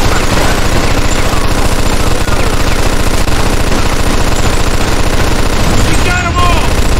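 Sustained rapid machine gun fire in the Mafia 2 video game, loud and relentless with dense overlapping bursts that barely let up, briefly dipping near the end, with shouting voices mixed underneath.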